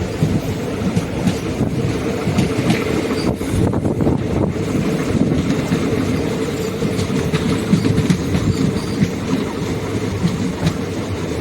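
A passenger train travelling from Trichy to Karur and passing Pettavaithalai station gives a steady, loud, continuous rumble and clatter of wheels and carriages with no talk.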